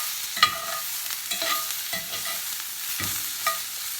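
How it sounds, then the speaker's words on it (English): Brussels sprouts frying in a cast iron pan with olive oil, stirred with several scraping strokes over a steady soft sizzle, close and alone without talk. "so I'm just going to give it another stir."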